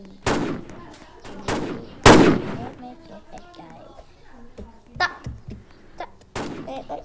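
Video game gunfire: sharp, loud shots go off in scattered single bursts, the heaviest near the start, with quieter thuds between them and a voice at times.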